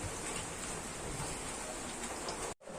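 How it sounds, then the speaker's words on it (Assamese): Heavy rain falls steadily as a dense, even hiss close by, with no voices over it, and it cuts off abruptly near the end. "আমাৰ ইয়াত তামান বৰষুণ।"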